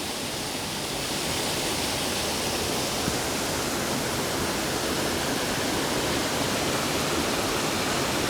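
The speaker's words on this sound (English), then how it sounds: "all the water there freezes and you just get the trickle of the water coming down into it" Water rushes down a waterfall in the Fairy Glen in winter, when much of it is frozen, making a steady, dense, close wash of noise that stays even throughout with no voices.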